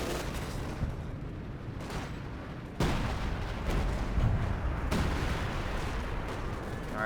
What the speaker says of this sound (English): Wow, nice artillery, friendly fire.